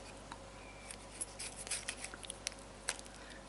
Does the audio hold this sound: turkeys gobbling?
no